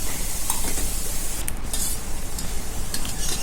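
Onions sauté in a pan for an egg fry, giving a dense, continuous close sizzle with a few brief scraping stirs and no voices.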